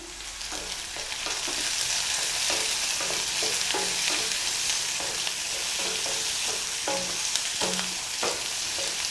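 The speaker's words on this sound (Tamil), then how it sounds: "வெங்காயம் வதங்கும்போது கொஞ்சமாக உப்பு போட்டுக்கோங்க வெங்காயம் சீக்கிரமாக வதங்கிடும்" Onions fry with salt in a pan, giving a continuous close sizzle broken by frequent small clicks and scrapes of stirring.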